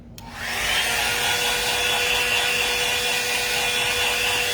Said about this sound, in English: I'm using the cold setting on my hair dryer